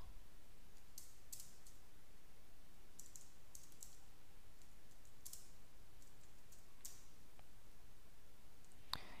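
Keyboard typing of a search for Google Maps comes as faint, scattered clicks in short bursts over a steady background hiss, with no voice present.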